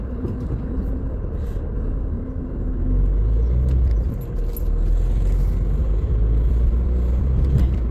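Steady low rumble of road traffic near a school exit crowded with student pedestrians, engines droning close by and swelling slightly midway as vehicles pass, with no talk.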